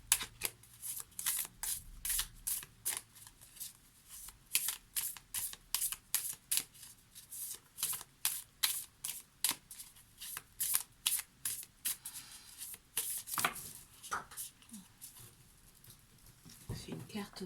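Oracle cards are shuffled in quick, crisp bursts of riffling and flicking, close and steady throughout a quiet indoor setting, with no talking over it.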